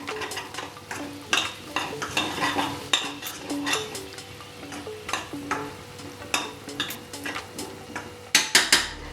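A spoon scrapes and clinks against a pan while palak paneer ingredients are stirred, giving repeated close knocks and scrapes under a faint sizzle, with a few sharper metallic clanks near the end.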